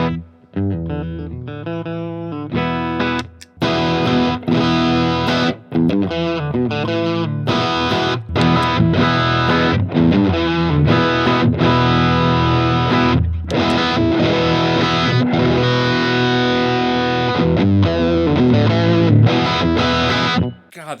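An electric guitar runs through two overdrive pedals stacked together, playing loud saturated riffs and chords with brief pauses between phrases, heavy distorted tone throughout.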